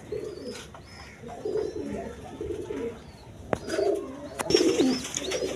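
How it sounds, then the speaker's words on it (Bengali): Shirting pigeons coo softly in a coop, repeated low throaty calls close by, with light rustles and a couple of sharp clicks in quiet surroundings. "কবুতর কি সুন্দর কবুতর"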